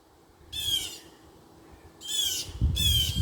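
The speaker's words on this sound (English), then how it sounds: "That one bird is really mad." An agitated bird lets out harsh, raspy squawks, one short call followed later by two more in quick succession, fairly close over a low background rumble.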